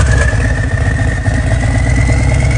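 A motorcycle with an aftermarket performance turbo exhaust runs loud and close, a steady rough engine rumble with a high whistling tone riding on top, no voices.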